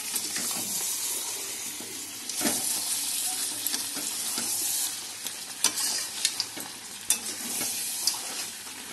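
Mutton curry being stir-fried in a pan in a Bengali home kitchen: a steady close sizzle with scraping stirs and clinks of the spatula, sharper metallic taps toward the end.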